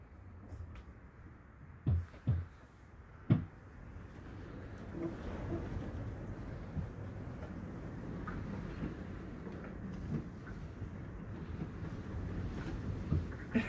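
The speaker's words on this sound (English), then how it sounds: "The wind is so strong." Strong wind in a heavy storm produces a steady low rushing roar with microphone buffeting, while a few thumps stand out early on.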